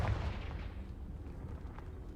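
A Confringo blasting spell explodes in a Harry Potter video game, a loud close boom at the start followed by a rumbling decay that fades over the next two seconds.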